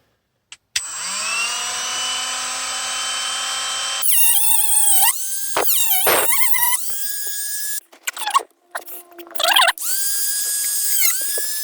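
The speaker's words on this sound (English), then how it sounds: "I've got my Dremel ready and the tools I'm going to be using here just to cut it out" A Dremel rotary tool cuts plastic trim inside a VW T4 Transporter van, whining at a high steady pitch that changes as it bites and is lifted, with several brief pauses and restarts, close and loud.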